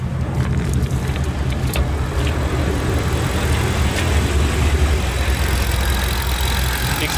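A 2019 Ford Mustang Shelby GT350 sits idling, its engine holding a steady, deep rumble up close with a few faint clicks over the top and no talking.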